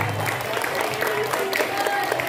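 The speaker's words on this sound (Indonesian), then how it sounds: "beri aplaus dulu" Schoolchildren on a study tour in Mojokerto City applaud, a steady, moderately loud patter of many hands clapping, with some faint voices mixed in.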